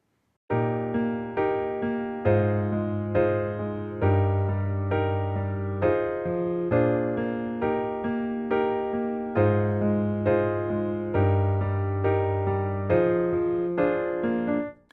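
Piano plays the steady four-bar B-section chord progression of a song, sustained chords struck in a regular rhythm with bass notes underneath, clear and close, no voices.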